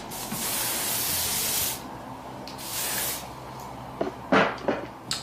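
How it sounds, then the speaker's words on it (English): A spray bottle hisses in one long burst onto a body wave wig's hair, then a shorter second burst, followed by a few faint rustling and handling sounds nearby. "I'm gonna spray this side a little bit."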